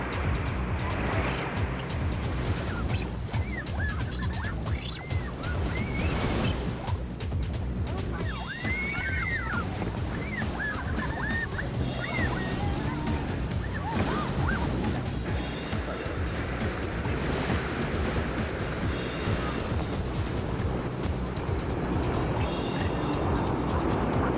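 Rushing whitewater of the Colorado River rapids, a steady loud roar of churning water filling the scene without pause, with occasional bursts and surges breaking through the continuous wash.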